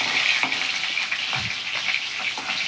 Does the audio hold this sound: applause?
no